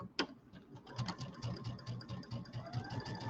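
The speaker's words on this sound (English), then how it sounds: "we'll go ahead and sew these together with our 1/4 inch seams" Rapid, even stitching from a sewing machine piecing quilt rows for a table topper with quarter-inch seams, a close, steady mechanical rattle that keeps going for a few seconds without pause.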